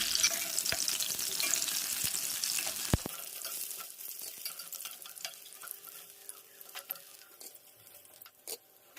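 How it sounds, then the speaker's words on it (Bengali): Chicken pakora fries in hot oil in a pan, giving a steady close sizzle with crackling pops and a few sharp clatters, fading slightly as it goes on. "অল্প একটু চিকেন পকোড়া ভাজছি এখন"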